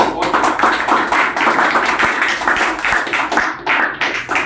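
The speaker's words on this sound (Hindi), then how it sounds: "जोरदार तालियां" An audience at a student motivational talk gives hearty applause, dense loud clapping that carries on steadily and thins slightly toward the end.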